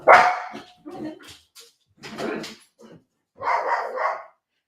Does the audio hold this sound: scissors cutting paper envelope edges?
no